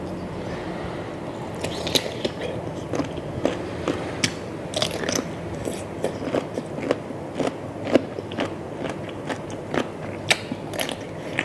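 Crisp, crunchy bites into bullet jellyfish served with seafood dipping sauce and fresh vegetables, a rapid run of sharp, close crackles and crunches repeating unevenly through the chewing, with no talk.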